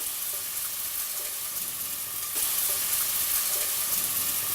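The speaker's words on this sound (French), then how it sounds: "Pour les légumes, donc là, on met nos courgettes." Courgettes sizzle steadily in olive oil in a restaurant pan, a constant close frying hiss that grows slightly louder partway through.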